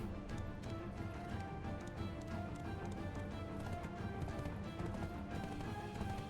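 Steady clip-clop of horse hooves running in Black Desert Online, over a dense background of game music and ambient sound, continuous throughout.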